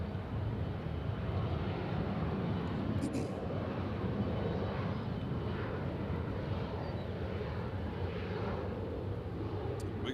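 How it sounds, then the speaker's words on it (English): A Southwest Boeing 737-800 arriving at Nashville International Airport from Dallas Love Field fills the air with a loud, steady, broadband jet roar that holds at an even level for the whole stretch, without any voices over it. "We got Southwest Flight 1891 coming in from Dallas, Love Field, the third."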